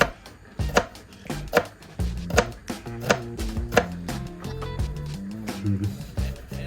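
A knife chops an onion on a cutting board in quick, evenly spaced thuds, close and crisp, with a tonal sound running beneath the strikes.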